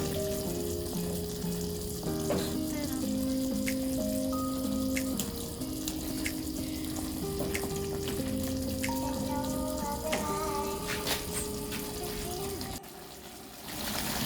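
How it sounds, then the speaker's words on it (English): A pot of Malaysian chicken curry simmers with a continuous soft bubbling hiss, close and even, with background music playing throughout. "so it's been already simmering away and the sauce is already a little bit creamy now"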